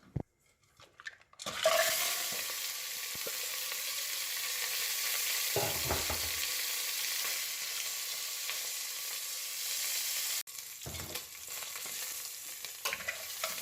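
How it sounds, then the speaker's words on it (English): Lobster shell pieces roast in vegetable oil inside a pressure cooker, giving a loud, steady sizzle and frying hiss with a few stirring scrapes. A short quiet gap comes before it starts and a brief dip appears near the end. "The first step is to lightly roast the lobster shell pieces."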